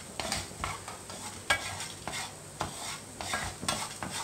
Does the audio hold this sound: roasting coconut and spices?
yes